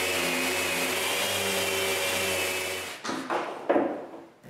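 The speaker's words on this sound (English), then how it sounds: "I can sand the glue that's squeezed out and the places that I didn't sand" A power sander grinds at dried, squeezed-out wood glue on a wooden cabinet, a steady loud motor whine for about three seconds that then cuts off, followed by a few scraping knocks and shuffles.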